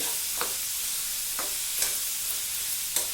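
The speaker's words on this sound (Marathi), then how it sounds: "आता मस्त आपण भाजी शिजत आहे" Cauliflower vegetable curry cooks in a pan with a steady soft sizzle, broken by a few faint stirring scrapes spaced roughly a second apart.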